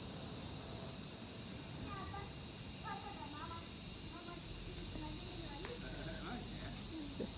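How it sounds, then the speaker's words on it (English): Cicadas buzz and chirp in short trilling bursts against a steady high-pitched drone at a quiet neighborhood temple, with a faint outdoor hum underneath; no one speaks. "we can hear cicada sound"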